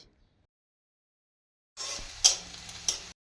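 After near silence, chopped onions hit hot oil with whole cumin seeds with a sudden sizzle, followed by crackling and a couple of sharp spatters.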